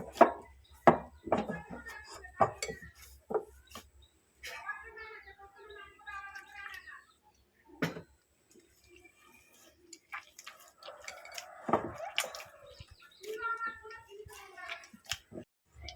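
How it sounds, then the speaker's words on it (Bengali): Rice flour batter for chitoi pitha, made from store-bought dry rice flour, being beaten by hand gives rhythmic, close, wet slaps and thuds, with a voice talking over parts of it. "আমি ভালো করে আটার ব্যাটারটাকে ফাঁটিয়ে নেব"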